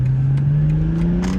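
The engine of a 2020 BMW M340i xDrive fitted with an MST intake revs steadily, a loud, close droning growl whose pitch slowly climbs, with faint clicks and whooshes on top.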